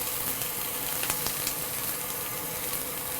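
Lilies and onions sauté in a little oil in a hot pan, giving a continuous close sizzle with scattered crackles and light stirring clicks, with no talking.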